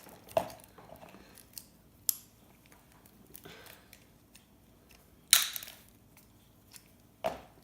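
Low-grade gold-plated pins being snipped into a container: a handful of sharp, separate clicks and snaps at irregular gaps, fairly close, with quiet pauses between cuts.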